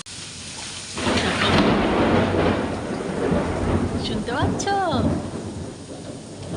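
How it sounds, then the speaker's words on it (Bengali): Loud thunder rumbles over a steady wash of heavy rain, and a voice briefly speaks nearby. "একটু জোরে জোরে মেঘ ডাকছে"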